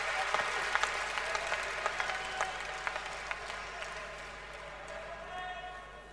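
A tennis crowd at a 1992 match in Brussels applauds the players as they take to the court, a broad, sustained clatter of many hands with a few sharper claps poking through, heard from a distance and slowly fading.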